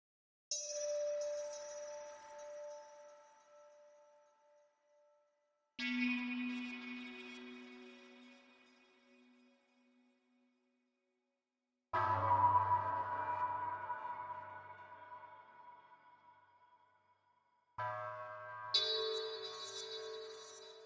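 Four separate synthetic tones ring out one after another, each with a long reverberant tail that decays before the next one starts.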